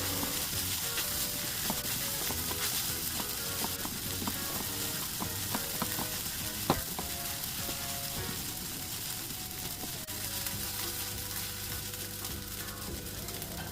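Sabudana, potatoes and lemon juice are stirred together in a pan over a quiet sizzle, with soft scraping and occasional clicks of a utensil against the pan, steady and fairly faint throughout, no talk.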